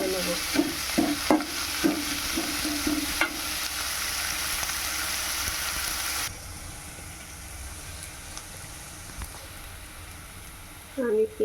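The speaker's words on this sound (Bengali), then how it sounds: "আমি এখন এটাকে ভালো করে নেড়ে নেড়ে ভেজে নেব" Onions fried and stirred in a pan for chicken curry, a busy close-up sizzle with repeated scraping strokes early on, then the frying drops to a quieter hiss with occasional clinks and a brief louder burst at the end.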